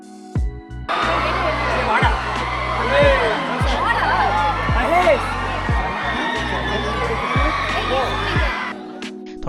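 Dense crowd of tourists at Guna Caves in Kodaikanal shouting, whooping and chattering continuously, loud and close, with music and voices mixed through the babble.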